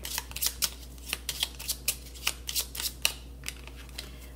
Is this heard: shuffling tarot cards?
yes